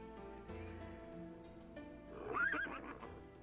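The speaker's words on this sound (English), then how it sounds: "Behind us was a horse being led by Shimada" In the video game Hakuoki, a horse led along gives a loud rising neigh near the end, after softer background music and faint hoof sounds.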